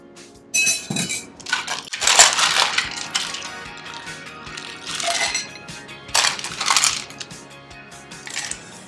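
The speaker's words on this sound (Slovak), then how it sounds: "Maliny jemne rozdrvíme, aby sa uvoľnila aróma a šťava." Raspberries muddled in a glass for a gin drink, a series of close, sharp clinks and crunching taps from the muddler striking the glass, arriving in short irregular bursts with brief pauses between them.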